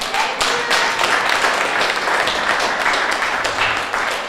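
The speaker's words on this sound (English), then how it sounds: "Can we get a round of applause for Angela and the rest of the group?" Round of applause from the audience at a Cape Verdean Association Martin Luther King Jr. Day celebration, a steady wash of clapping sustained throughout without a break.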